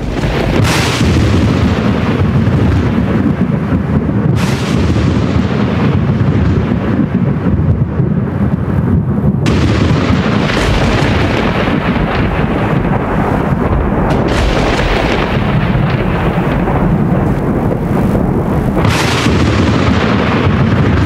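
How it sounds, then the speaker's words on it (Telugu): Loud, continuous thunder rumbles and rolls throughout a storm before rain, with several sharper cracks breaking through the heavy, booming roar. "ఏంటి ఉరుములు మెరుపులు? వర్షం పడేలా ఉంది."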